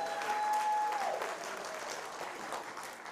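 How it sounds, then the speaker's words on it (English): Audience applause for dancers at a charity dance competition evening, steady clapping from a crowd across the short span, with a sustained tone ringing briefly over it at the start. "give a round of applause for all of our performers on this evening."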